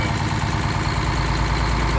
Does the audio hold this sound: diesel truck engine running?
yes